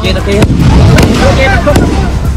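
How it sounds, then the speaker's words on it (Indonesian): Fireworks and firecrackers explode during an Eid al-Fitr celebration, sending several sharp, loud bangs through a dense roar of crowd noise and voices. "Insiden terjadi di tengah pesta kembang api dan petasan saat momen Hari Raya Idul Fitri."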